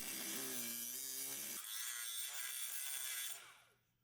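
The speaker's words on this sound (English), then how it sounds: "Using a cutoff wheel, cut the outer shell encasing the bearing." Cutoff wheel grinding through the outer shell around a Chrysler Crossfire driveshaft carrier bearing: a continuous high-pitched abrasive whine with a shifting tone that fades out at the end, fairly quiet.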